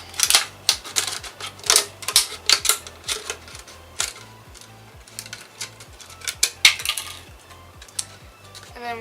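Scissors or a craft blade snipping through a thin plastic bottle to make a light-up mask, giving a run of irregular sharp clicks and crinkly cuts, close up and fairly loud, with no talking.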